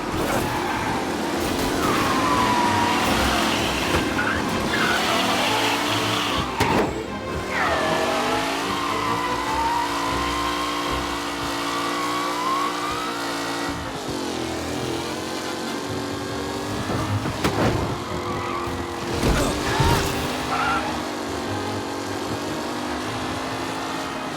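Race cars in Mafia Definitive Edition roar away from the start in a loud, continuous pack, engines revving and shifting pitch with tyres skidding, no talk over the din.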